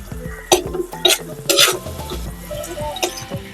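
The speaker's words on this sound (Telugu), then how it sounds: "ఎండుమిర్చి వేసుకోవాలి ఇలా తర్వాత కరివేపాకు కరివేపాకు వేయాలి" Dried red chillies and curry leaves sizzling in hot oil during tempering for a drumstick leaf curry, with sharp bursts of crackling and spattering over a steady frying hiss and occasional clinks of a pan.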